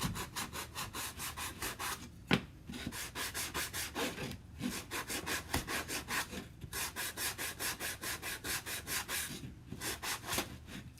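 Hand sanding of a wooden board, with rhythmic back-and-forth rubbing strokes in steady runs broken by a few short pauses, close and clear with no voices.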